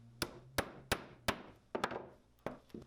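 A small anvil rings under a hammer driving tacks through leather sandal straps: about seven sharp, bright metallic strikes at irregular intervals, each decaying quickly, close up and without voices.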